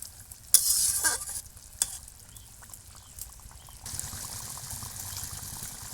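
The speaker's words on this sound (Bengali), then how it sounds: "বন্ধুরা দেখেন আমার ঝোলটা ফুটে উঠেছে, আর একটু নেড়ে ছেড়ে দেবো।" Tengra fish curry gravy boiling in a pan and being stirred with a utensil, bursts of scraping and clatter up front, then a steady close bubbling simmer carrying on alone.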